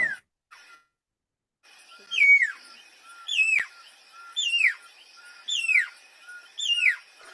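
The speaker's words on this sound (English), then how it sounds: "this is the pearl spotted owlet. And it's tiny, and it's just amazing looking," A tiny pearl-spotted owlet calls in a repeated series of sharp, rising-then-falling whistled notes, five evenly spaced loud phrases coming one after another, clear and fairly close against a quiet background.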